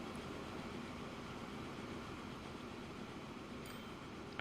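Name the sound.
train running in video game Transport Fever 2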